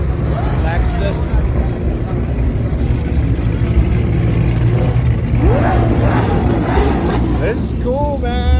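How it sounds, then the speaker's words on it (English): A supercar engine revs at an outdoor Florida car show, rising and falling over a dense crowd murmur and nearby chatter, with other engine noise in the background. "Here comes the supercar. Making all those noises."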